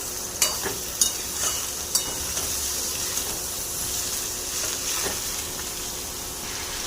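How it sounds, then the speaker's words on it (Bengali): Potato pieces stirred into a pan of frying beetroot, a strong continuous sizzle with a few sharp spatula knocks early on, close and loud, no voices. "এই যে আলু দিয়ে দিলাম ভালো করে নাড়িয়ে নেব"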